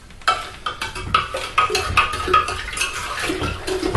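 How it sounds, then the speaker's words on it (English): Plastic salad spoon stirring water kefir back and forth in a container, irregular sloshing and light clinking strokes, close and moderately loud, with no talking. "So I stir it back and forth, really mixing it up."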